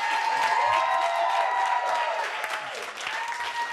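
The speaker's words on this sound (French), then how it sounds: "Applaudissements!" Loud, steady applause from a comedy show audience, dense clapping mixed with some cheering, sustained throughout with a slight dip near the end.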